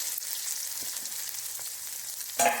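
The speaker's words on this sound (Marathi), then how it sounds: "चांगल्या तळतळल्या का मोहऱ्या" Mustard seeds crackle and sizzle in hot oil in a home kitchen, with garlic and red chili chutney about to join them. The frying hiss runs steadily and close, and a louder sizzling burst near the end suggests something added to the pan.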